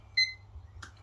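A kitchen timer gives one short, clear electronic beep as it is started, followed moments later by a faint click or tap, in an otherwise quiet kitchen with a low background hum.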